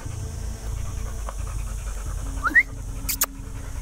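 A dog on a leash pants steadily in quick rhythmic breaths, close by over low background rumble, with a brief squeaky whine midway and a couple of sharp clicks near the end.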